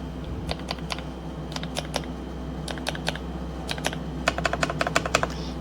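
Typing on a Kisnt KN85 75% wireless mechanical keyboard fitted with Wisteria switches and new keycaps: bursts of crisp, close keystroke clicks in quick runs with short pauses, over a steady low background hum.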